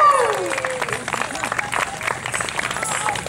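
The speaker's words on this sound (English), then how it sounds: "give a one more big clap" An audience at a university Sri Lankan New Year celebration breaks into applause, a burst of clapping that carries on steadily for a few seconds after a brief voice at the start.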